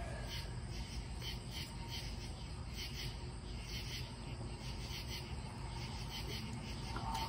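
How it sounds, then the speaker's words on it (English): A steady, dense chorus of tree frogs calling outdoors at night, an even pulsing trill heard continuously from some distance with no other sounds over it. "You hear them tree frogs?"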